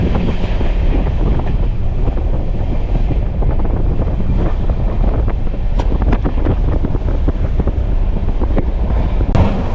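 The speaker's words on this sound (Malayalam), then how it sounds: "നമ്മളെ ഈ പാലത്തിൻ്റെ മേളിൽ കൂടെ പോകുമ്പോഴുള്ള സൗണ്ട് ഉണ്ടല്ലോ" Heard from on board an intercity express train between Ernakulam and Palakkad as it crosses a bridge, a loud continuous rumble and rattle with clacking wheel beats and wind buffeting the microphone.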